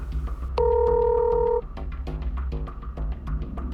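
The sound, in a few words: telephone dialing a call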